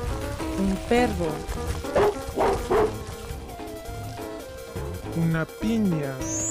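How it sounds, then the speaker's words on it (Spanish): A dog barks and yips in a handful of short bursts over busy cartoon-style music and effects, the barks fairly close and spread unevenly through the passage. "Un perro."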